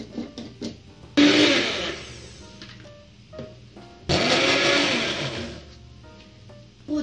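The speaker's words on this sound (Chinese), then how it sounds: "然后把冷却的菠菜 放到搅拌机里面" An electric blender pureeing cooled blanched spinach, two loud whirring bursts of about three seconds each, close by, separated by quieter handling clatter.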